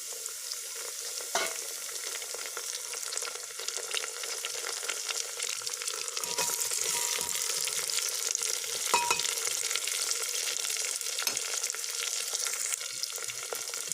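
Mutton curry with freshly added chopped tomatoes fries in a pan, giving a steady, close sizzle with occasional stirring scrapes and no talk.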